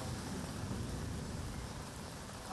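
Steady rain falls in Mumbai's Byculla area during an early monsoon downpour, a continuous even hiss with a low rumble underneath, faint and unbroken.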